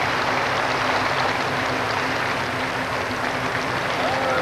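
A large dog-show crowd roars and applauds steadily as a golden retriever takes best in show, a dense, continuous wash of cheering and clapping with no break.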